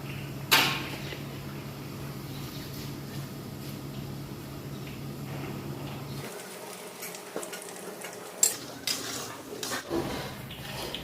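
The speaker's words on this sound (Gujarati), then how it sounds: "તો આપણે ફુલાવર, કોલીફ્લાવર ફ્રાય થઈ ગયું છે, સોફ્ટ થઈ ગયું છે" Cauliflower sizzles softly in a pan with oil as a spoon stirs it, a low constant frying hiss punctuated by a few clinks and scrapes of utensil against the pan.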